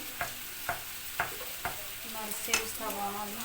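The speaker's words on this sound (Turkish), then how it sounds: "Şimdi yap, tavaya çıtır çıtır ediyor." Chicken döner sizzles and crackles in a frying pan, with several sharp scraping stirs of a utensil early on and a voice speaking briefly near the end.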